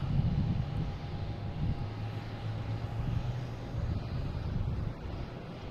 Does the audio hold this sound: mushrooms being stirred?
no